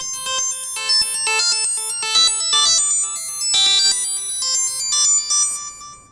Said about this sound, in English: It's a beautiful delay that adds plenty of sparkle to your patches.